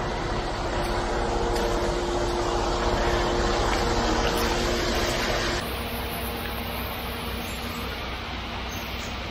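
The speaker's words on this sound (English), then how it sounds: "I'm gonna give this a little bit of a rinse." Water sprays and splashes steadily over a concrete bull-float tool on a patio job, a continuous broadband rush lasting throughout and dropping slightly in level partway through, with no speech.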